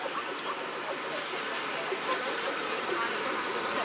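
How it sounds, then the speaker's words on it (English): A passenger train arrives at a station, with a West Coast Railways Class 47 diesel locomotive on the rear: a steady, fairly loud broadband rumble and hiss of rolling stock that carries on evenly throughout. "arriving in now is going to be the Royal Wessex team, terminating from Three Bridges"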